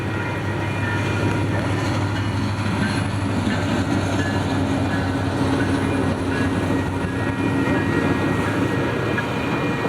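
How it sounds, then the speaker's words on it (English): Northbound FrontRunner commuter train departing Layton, Utah, behind an MP36-7 locomotive; a steady, loud rumble of engine and rolling cars fills the whole stretch without pause or talk. "our northbound FrontRunner departed Layton with MP36-7 leading."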